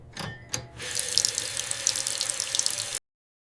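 Cold water runs from a tap into a sink during stain cleaning after spilled coffee: a steady, close hiss and splash for a few seconds, preceded by two brief clunks, then stopping abruptly.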